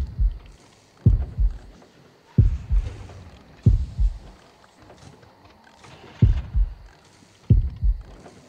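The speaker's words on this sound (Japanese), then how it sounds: "心音が近くで鳴ってて怖いんですけどね" A thudding heartbeat pulses nearby in the Horrorfield horror video game, low double beats repeating at a steady slow rhythm over a quiet ambient hum, with no talking.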